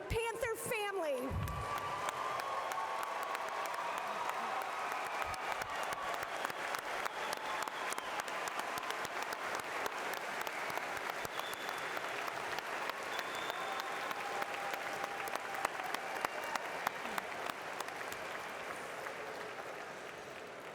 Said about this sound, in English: I ask all UNI alumni in the audience to please stand and applaud the newest members of our UNI Alumni Panther family